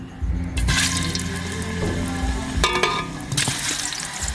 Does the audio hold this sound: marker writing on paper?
no